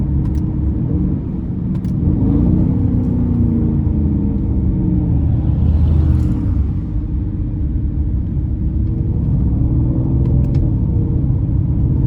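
A 2019 Mercedes-Benz C63 S AMG Brabus 900 idles with a deep, loud rumble in sport mode, its engine note swelling gently with light throttle taps, steady and close from inside the car.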